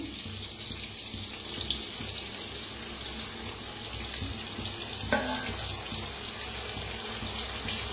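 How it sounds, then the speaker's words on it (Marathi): Water runs and splashes into a pan of cooking ridge gourd over a steady background hiss, with a brief clatter partway through. "थोडंसं पाणी ओतायचं कडने"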